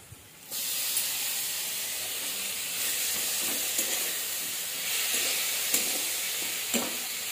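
Potatoes and mushrooms fry in a pan with a steady, loud sizzle and hiss that starts suddenly and carries on, broken by occasional stirring scrapes and pops.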